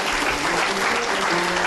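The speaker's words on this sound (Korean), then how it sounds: "이영익 씨의 멋진 발표 큰 박수로 맞이해 주시기 바랍니다" A large audience at a science presentation contest final claps steadily in warm, continuous applause welcoming a presenter to the stage, loud and even throughout, with faint voices beneath.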